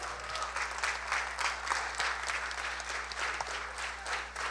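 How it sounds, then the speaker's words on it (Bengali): An audience at a Durga Puja children's drama claps in steady, sustained applause, heard at moderate distance and fairly soft. "তাদের জন্য একটা বড় করে হাততালি দিয়ে দিই আমরা।"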